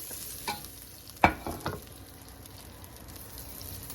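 Beef stir-frying in a pan with caramelized bits on the bottom, a low continuous sizzle punctuated by three quick utensil scrapes or clatters close by, then settling back to a quiet steady fry.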